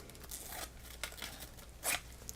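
Scissors snipping through craft material at a home craft table, a few quiet crisp cuts and rustles with one sharper burst near the end, faint and close.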